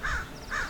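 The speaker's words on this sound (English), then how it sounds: "So we got some crows right up there." Two harsh crow caws, evenly spaced about half a second apart, ring out from a short distance above a wilderness area, with no voices present.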